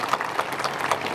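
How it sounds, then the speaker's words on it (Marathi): An audience at a school honored-guest event claps steadily. It comes across as a moderate, continuous patter of many hands with a few sharper claps standing out. "यांच्यासाठी आपण सगळ्यांनी टाळ्या वाजवल्या पाहिजे."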